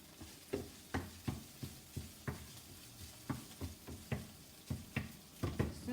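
Chorizo sizzling in a pan while being stirred, with a steady soft frying hiss and a regular series of scraping, knocking stirs roughly every half second, close and moderately quiet.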